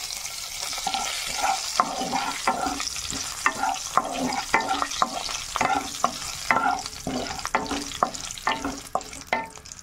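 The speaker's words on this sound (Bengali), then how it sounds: "ওই তেলে আমি এখানে জিরে, গরম মশলা এগুলো ফোড়ন দিচ্ছি" Cumin, garam masala, a dried chili and two bay leaves tempering in hot oil for a chicken masala, crackling and sizzling steadily up close, with sharp stirring clicks and spatula scrapes scattered throughout, no voices.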